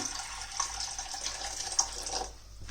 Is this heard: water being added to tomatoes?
yes